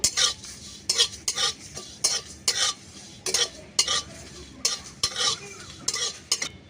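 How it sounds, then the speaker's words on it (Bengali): Dried chilies, panch phoron, cumin and fennel are dry-roasted in a wok, a spatula scraping and stirring in quick rhythmic bursts of close clatter and rustle, with no voices. "এটা এবার কড়ার মধ্যে দিয়ে এটাকে একটু হালকা করে ভেজে নেব"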